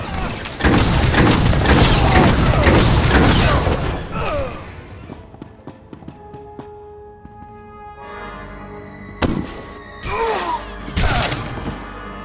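Heavy, rapid blaster gunfire and booming blasts fill a battle in the video game SWTOR, loud for several seconds, then fade to scattered shots, explosions and ringing tones.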